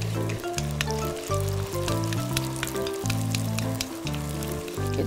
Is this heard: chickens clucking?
no